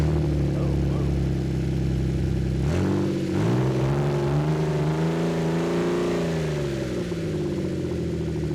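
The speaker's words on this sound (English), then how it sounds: "Let's see what this sounds like with open exhaust per se." Ford Flex EcoBoost engine with open exhaust, idling at a steady deep drone and then revving sharply, pitch climbing and settling back to a lower rumble, loud and close throughout.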